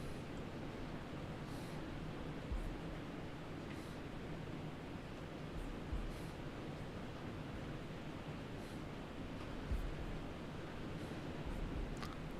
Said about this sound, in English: It is pouring.